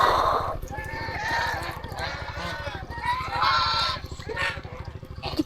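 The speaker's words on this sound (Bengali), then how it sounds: "এটা অনেক হাঁস আছে এখানে" A large flock of geese and ducks honks repeatedly in overlapping calls over a steady low engine-like rumble, with faint voices nearby.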